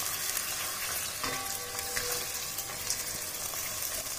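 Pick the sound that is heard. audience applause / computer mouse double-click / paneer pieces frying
paneer pieces frying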